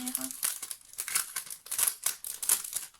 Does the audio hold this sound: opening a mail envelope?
yes